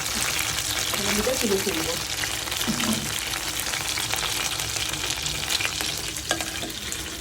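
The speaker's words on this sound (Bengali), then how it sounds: "হয়ে গেল আমার চিকেন কাটলেট ফ্রাই।" Chicken cutlets fry in hot oil with a steady, loud sizzle throughout, and a person speaks briefly over the crackling.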